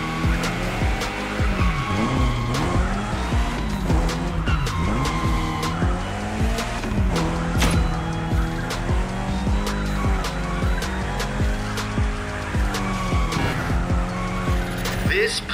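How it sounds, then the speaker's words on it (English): A Mitsubishi Evo X drifts through city streets in the racing game The Crew Motorfest, its engine droning and revving while tires squeal in long sweeping wails, loud and continuous throughout. "Go drift, my friend. Go drift to your heart's content."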